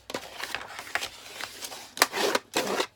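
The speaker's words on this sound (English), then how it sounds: "I'm just going to burnish those score lines" Dry scraping and rubbing strokes burnishing score lines on card for a box, coming in short bursts with brief pauses, close up and moderately loud.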